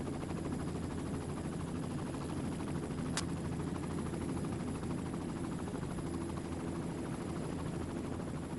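A helicopter filming a stage of the 2025 Tour of Magnificent Qinghai cycling race in northern China drones steadily throughout, a continuous dense rotor and engine roar with one brief sharp click midway and no voices.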